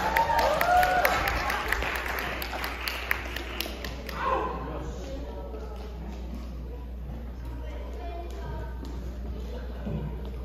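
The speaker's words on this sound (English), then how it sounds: "let's all give a round of applause for our finale." A church audience at a first-anniversary celebration applauds the finale: dense clapping for the first few seconds, then it dies away into a quieter room murmur.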